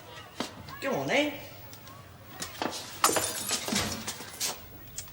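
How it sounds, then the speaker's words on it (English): Window glass smashes in a burst of sharp cracks and tinkling shards, preceded by scattered knocks, with voices speaking around it. "it sounded like glass"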